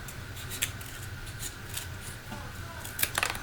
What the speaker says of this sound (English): I'm going to trim off this edge, this part of the tab here.